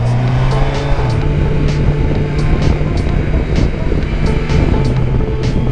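A 2021 Kawasaki Versys 1000 SE LT+ motorcycle engine droning steadily while riding, loud and close with a sustained hum, shifting pitch slightly as it runs, with wind noise throughout.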